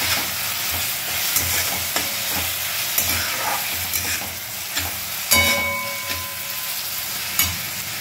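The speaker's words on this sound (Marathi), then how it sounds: "आपला इकडे कांदा आणि टमाटा परततोय" Onion and tomato sautéing in a pan, a steady close sizzle with repeated soft scraping stirs of a spatula at a regular pace, plus a few sharper clinks against the pan.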